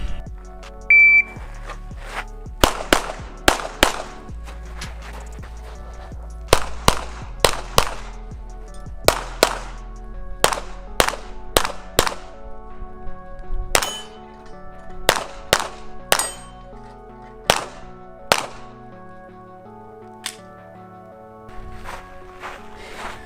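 M&P 2.0 5-inch pistol fired in a USPSA-style stage, sharp gunshots in quick bursts with brief pauses between target groups, loud and close, about twenty shots in all.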